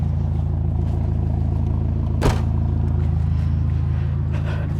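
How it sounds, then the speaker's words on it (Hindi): A Ferrari Roma being driven, with a steady low engine rumble throughout and a single sharp clack partway through, close and fairly loud. "मैं ट्रंक को बंद करके गाड़ी को थोड़ा चलाते हैं कि गाड़ी साउंड कैसी करती।"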